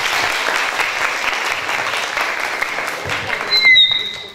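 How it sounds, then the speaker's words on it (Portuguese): An audience at a lecture claps steadily and loudly, the applause rising slightly near the end while a high whistle-like tone cuts through at the finish. "Palmas para ele."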